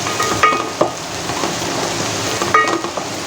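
Onion and curry leaves frying in a pan for misal, a continuous close sizzle with a few sharp spoon-scraping clinks as the mixture is stirred, no talking.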